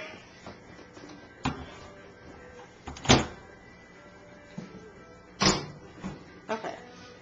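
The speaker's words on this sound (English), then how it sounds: "Close the door." A front-loading washing machine door being pushed shut indoors, with a couple of sharp thumps and a firm latch click standing out over quiet room noise and light handling sounds.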